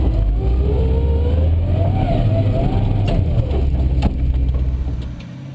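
A 4x4 truck climbs a steep winch wall at an extreme winch challenge, its engine revving hard at full throttle in a loud, sustained roar with rising and falling pitch, easing off near the end.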